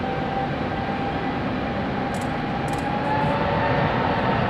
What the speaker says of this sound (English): on 23, as we've got Pegasus now taking off.